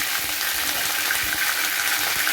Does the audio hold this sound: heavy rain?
no